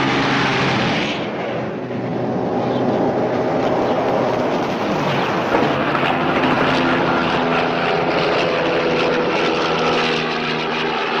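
A police helicopter flies overhead with a loud, steady engine and rotor roar that holds throughout, briefly dipping early on before staying dense and close, with no voices.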